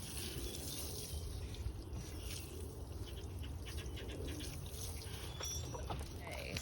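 Water from a hose soaking into garden soil around a relocated hyssop bush, a soft continuous trickle and splash outdoors with faint bird calls in the background.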